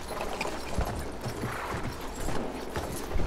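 Horse hooves clip-clop in the Battlefield 1 open beta, a steady run of soft thuds at moderate distance mixed into busy game ambience with occasional sharper knocks.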